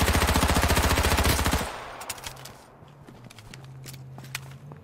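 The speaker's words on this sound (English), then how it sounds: "He's shooting, mate." Gunshots in the H1Z1 video game on PS4, a rapid evenly spaced automatic burst, loud and close, for about one and a half seconds, then quieter footsteps and faint scattered clicks.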